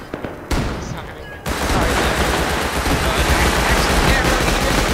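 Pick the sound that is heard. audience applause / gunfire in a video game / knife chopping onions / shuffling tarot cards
gunfire in a video game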